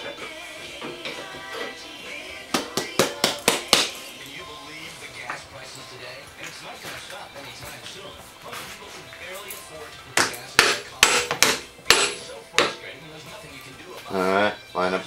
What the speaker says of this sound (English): you're tapping it in, you want to make sure that none of the brass chips raise up